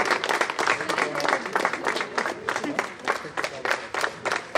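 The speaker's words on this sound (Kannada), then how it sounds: "ಎಲ್ಲರೂ ಚಪ್ಪಾಳೆಯ ಮುಖಾಂತರ ಎಲ್ಲರನ್ನೂ ಸಹ ಹೊಂದಿಸಬೇಕು." Applause from the audience at a valedictory function for an inter-collegiate short pitch cricket tournament, a dense, steady patter of many hands clapping that stays fairly loud throughout.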